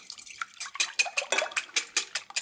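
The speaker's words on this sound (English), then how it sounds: "Whisk those up." Three large eggs whisked in a large mixing bowl, a quick rhythmic run of light metallic clicks and taps against the bowl, close and fairly soft.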